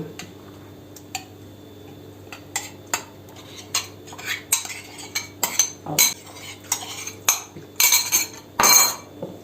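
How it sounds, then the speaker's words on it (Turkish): Chicken and sauce in a pan stirred with a metal utensil, a close run of sharp clinks and scraping taps against the pan, growing busier and louder toward the end. "ve şimdi ben sosunu üzerine döküp hepsini birlikte karıştırıyorum"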